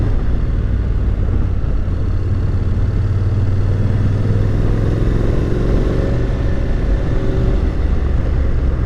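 A 2021 Honda NC750X DCT motorcycle is ridden slowly along a road with blind corners. Its engine drone and wind rush stay loud and continuous with little change.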